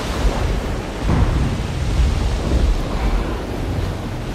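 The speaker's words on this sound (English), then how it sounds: "the rain, it is not pattering, or even pounding against the roof of the Ark as I imagined" Heavy rain and storm noise beat around the Ark, a dense, steady roar of broadband wash with deep rumbling swells, loud and continuous with no talk.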